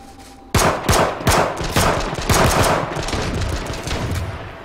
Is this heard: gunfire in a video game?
yes